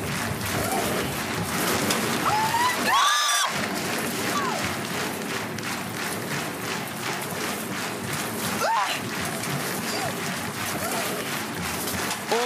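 Water pours and splashes steadily onto a person strapped into a spinning spin-cycle stunt rig, a continuous rushing spray lasting the whole stretch, with voices talking over it.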